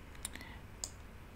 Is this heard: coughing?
no